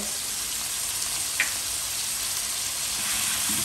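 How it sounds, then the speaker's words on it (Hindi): Boneless chicken coated in ginger-garlic paste frying in hot oil, a steady, close hiss of sizzling with a faint bubbling texture and one small pop, with no talking. "इसको हम अच्छे से चिकन को फ्राई कर लेंगे, अच्छे से कुक कर लेंगे।"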